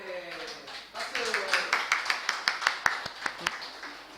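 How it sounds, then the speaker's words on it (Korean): Scattered audience clapping in a church setting, a run of distinct claps building and then thinning out over a few seconds, with speech heard at the start. "박수"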